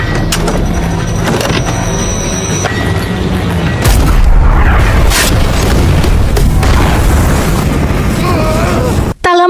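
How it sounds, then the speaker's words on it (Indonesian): A petrol tank explodes in a film scene after a sniper's shot, a sudden deep boom that bursts in loudly partway through and rumbles on over tense soundtrack noise. "sniper ini malah menembak ke arah tangki bensin dan seketika terjadi ledakan"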